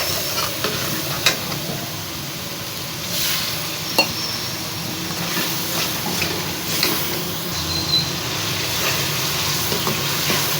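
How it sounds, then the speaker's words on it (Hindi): Red chilli, turmeric and salt fry in a pan for mash dal, giving a steady, close sizzle broken by scraping stirs and a few sharp clicks of the spoon. "मसाला अच्छे से भून चुका"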